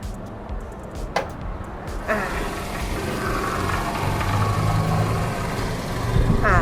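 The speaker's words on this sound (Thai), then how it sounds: "ตอนนี้เราสตาร์ทเครื่องยนต์อยู่เนาะ" A 2007 Toyota Camry 2.0 G automatic idles steadily with a low, continuous rumble and faint hum, with a few clicks and knocks near the start.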